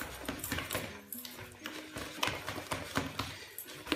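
Wheaten bread dough being mixed in a bowl, with a busy run of soft thumps, scrapes and knocks in an irregular rhythm, close and fairly quiet, with no talking.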